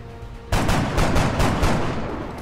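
Reaction-shot gunfire from the strategy game XCOM: Enemy Within, a sudden loud burst of rapid shots that starts about half a second in and then trails into a sustained rattling volley lasting to the end.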